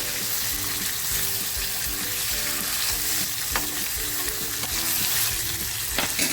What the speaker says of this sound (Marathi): आपल्याला ना जास्त फ्राय नाही करायचे अर्धवट फ्राय करायचे